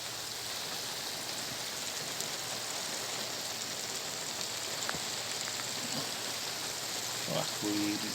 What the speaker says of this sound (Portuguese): A chuva tá passando mais.